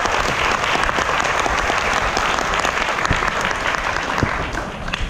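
Sustained applause from a large audience at a business leadership seminar, dense even clapping with a few sharper claps standing out, easing slightly near the end.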